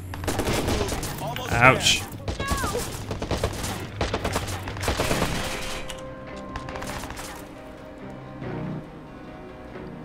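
Gunfire in Watch Dogs rings out in sharp, repeated bursts of shots, loudest early and thinning out later, while a voice briefly cries out in pain.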